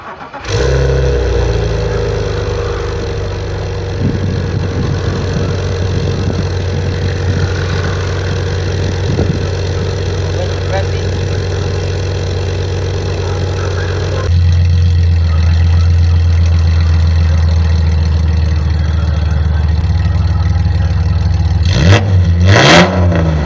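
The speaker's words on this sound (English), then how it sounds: "So I'm going to take the key and start the car" A BMW E46 engine turns over and settles into a steady rumbling idle, then revs up louder with throaty exhaust through a valvetronic exhaust, ending in a few sharp bursts.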